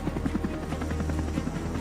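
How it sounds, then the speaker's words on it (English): A German navy helicopter flies nearby, ferrying technicians from an aircraft carrier to a destroyer at sea; its steady rotor chop and engine drone hold loud and constant throughout with no talk. "a German helicopter is transporting 2 technicians from the Truman to a destroyer"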